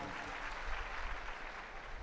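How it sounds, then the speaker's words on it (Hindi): An audience claps in steady, sustained applause at a spiritual education talk, a dense wash of hand claps at moderate distance with faint voices mixed underneath. "ताली बजाकर धन्यवाद दें"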